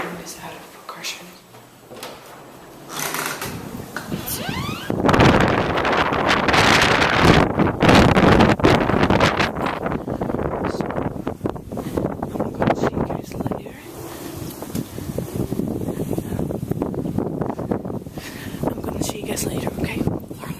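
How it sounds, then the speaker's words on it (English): Strong wind buffets the microphone outdoors, a loud, continuous rumble that swells after the first few seconds and persists throughout with gusty surges. "it's windy outside"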